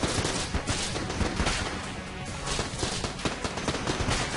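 Rapid gunfire from the bullet-hell game Enter the Gungeon runs as a dense, steady stream of shots and crackling bursts through the whole stretch, under constant game noise.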